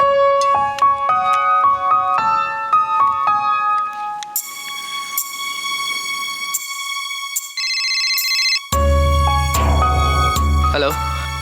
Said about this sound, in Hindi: आप वीर को फोन मिलाइए